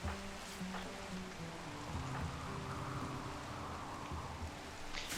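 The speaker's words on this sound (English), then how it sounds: "Oh no, Eddie, don't sleep in the rain there." Steady rain falls in the video game RimWorld, a continuous soft hiss of drops on surfaces mixed with quiet game music tones throughout, with no talking.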